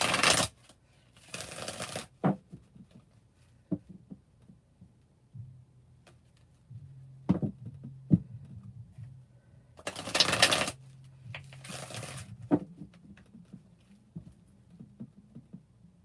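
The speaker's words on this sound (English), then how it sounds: "Let me give y'all one more good shuffle, Leo." A deck of cards being shuffled up close in a quiet room, crisp riffling bursts separated by pauses, with light tapping and handling noises in between.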